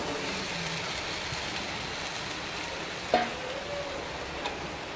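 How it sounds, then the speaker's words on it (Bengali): Fried potatoes tipped into a sizzling spice masala for a pabda fish curry with tomato, giving a steady hiss of frying with a brief clatter as they go in, close and alone. "মশলাটা কষানি হয়ে গেছে, এখন আমি ভাজা রাখা আলুগুলো দিয়া দেব।"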